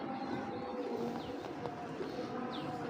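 Pigeon coos from a black chequer pigeon and other birds offered for sale, soft and recurring over a busy, noisy background with faint chirps.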